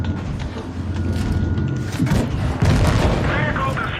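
Heavy tank cannon shots booming out in World of Tanks Blitz, a few loud blasts with rumbling tails, mixed with game noise and someone talking.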